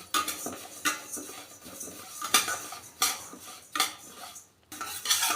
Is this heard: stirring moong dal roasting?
yes